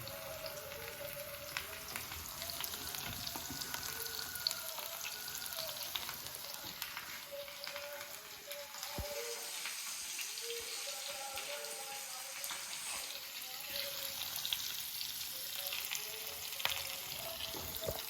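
Turmeric and spices frying in a pan in a home kitchen give a steady, soft sizzle and crackle with faint stirring scrapes, running continuously throughout with no talk.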